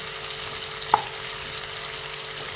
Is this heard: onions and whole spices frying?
yes